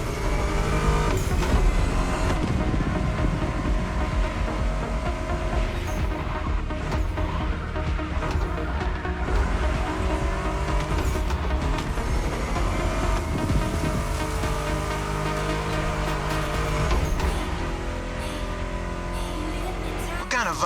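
A Ford Mustang GT engine in a racing video game roars and revs continuously at close range, rising and falling with gear changes over a music-like backdrop.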